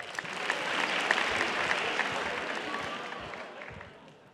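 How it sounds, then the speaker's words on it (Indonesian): Audience applause fills a large hall at a stand-up comedy grand final in Balai Sarbini, a dense wash of clapping that swells early and gradually fades over four seconds. "Tepuk tangan dulu dong buat dia dong."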